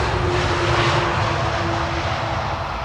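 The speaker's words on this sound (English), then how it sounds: "A KLM landing here with a small wheelie, like there's no crosswind at all" A KLM airliner lands at Amsterdam Schiphol Airport on a sunny, crosswindy day, giving a steady, loud engine roar with a sustained tone and no pauses.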